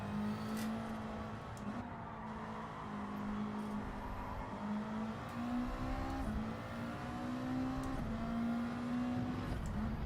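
A Subaru WRX in Gran Turismo 7 drones steadily at mid revs, its engine note rising and dipping gently as the car slides through corners, with tyre and wind whir underneath and no talking.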